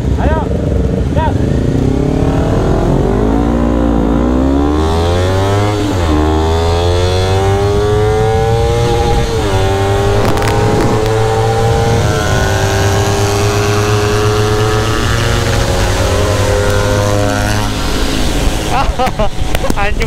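A crash-damaged Honda CBR250RR motorcycle runs and is ridden off, its engine revving up and down loudly close by in rising and falling sweeps, with voices talking over it.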